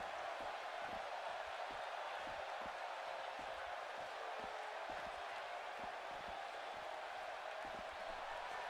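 A wrestling-show crowd roars in a steady, dense wash of cheering for a wrestler's entrance, with scattered claps and thumps running through it the whole time.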